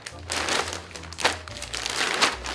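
A Ziploc plastic bag crinkles loudly up close as it is handled and filled, with bursts of crisp rustling rising and easing over a couple of seconds.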